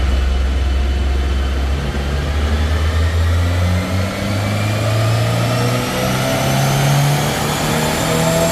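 A 2023 Subaru WRX engine revving steadily upward on a dyno during a full pull, a loud continuous drone climbing in pitch over several seconds with no talk over it.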